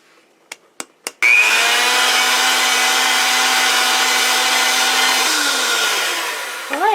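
Electric hand mixer whirring steadily as it beats a cream cheese filling with vanilla and powdered sugar for a pumpkin roll, loud and continuous after a few brief knocks, with its pitch shifting slightly near the end.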